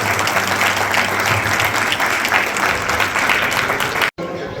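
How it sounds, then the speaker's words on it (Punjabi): Loud, sustained applause from a crowd honouring ASHA workers at a Lohri celebration for newborn girls, steady clapping for about four seconds before cutting off abruptly. "ਜ਼ੋਰਦਾਰ ਤਾਲੀਆਂ ਸਭ ਤੋਂ ਜ਼ਿਆਦਾ ਜ਼ੋਰਦਾਰ ਤਾਲੀਆਂ"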